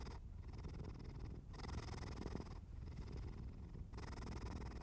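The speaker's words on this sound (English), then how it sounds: "The purring continues, and the world grows quieter." A cat purrs softly and continuously up close, the rumble swelling and easing in a slow, even rhythm with each breath, alone without any voices.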